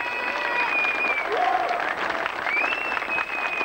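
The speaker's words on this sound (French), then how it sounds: "je crois qu'on peut tous les applaudir pour le travail réalisé" An audience applauds the amateur and volunteer cast of a Joan of Arc son et lumière show in Martin-Église: a loud, dense wash of clapping with crowd noise and faint whistles, steady throughout.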